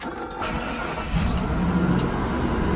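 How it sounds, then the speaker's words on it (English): An RV motorhome engine, a Newmar Scottsdale, cranks and catches, then settles into a steady low rumble that grows slightly louder after about a second, heard close and alone with no talk. "So we need to start the engine to do this."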